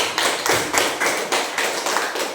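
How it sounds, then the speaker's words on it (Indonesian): Sixth-grade elementary pupils in a classroom clap together for group 4, producing a steady, rhythmic series of fairly loud, close bursts with no talking over it. "kasih dulu tepuk tangan dulu untuk kelompok 4."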